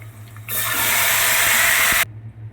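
Lentil rasam poured from a vessel into a pan holding onion tempering, a steady close rushing splash that runs for about a second and a half before stopping abruptly.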